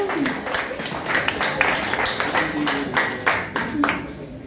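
Applause at a youth business association's career coaching launch event in Guinea, a steady wash of clapping hands with scattered louder claps running throughout, mixed with faint voices.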